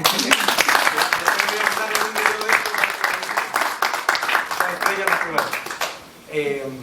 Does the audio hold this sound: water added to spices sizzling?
no